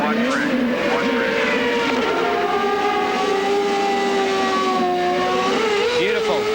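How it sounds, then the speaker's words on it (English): IndyCar-style race car leaving a pit stop at the 2000 Honda Grand Prix of Monterey with wheel spin, a loud sustained engine whine with climbing and falling pitch sweeps, heard under crowd and circuit noise. "Bit of a more wheel spin from DeFerrand."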